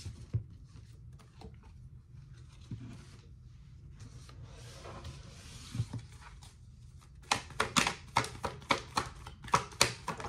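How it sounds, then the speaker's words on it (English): Oracle cards are rubbed, shuffled and pulled from a Starseed Oracle deck, soft papery sliding at first, then a run of close, crisp riffling flicks near the end, with no talk. "So let me pull some oracle cards."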